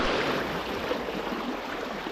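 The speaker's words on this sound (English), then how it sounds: "The river is honestly running higher than I realized" A high-running river in Oregon's high desert rushes steadily past at close range, a broad continuous wash of flowing water with no pauses, loud and even from start to finish.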